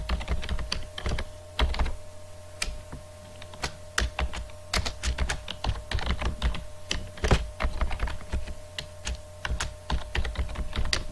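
A new password is typed on a computer keyboard in quick, uneven bursts of crisp key clicks with brief pauses between them, close by, over a low steady hum.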